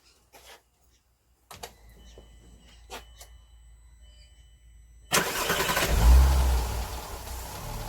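A VW Bora V6 fires up after an oil change: faint clicks and shuffling first, then the engine cranks, catches loudly and settles into a steady running note with a slight rev.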